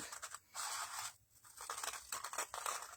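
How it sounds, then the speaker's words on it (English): Scissors snip and slice through paper close by, cutting out a circle in a run of crisp cutting strokes with a brief pause between. "use your scissors to cut that circle out"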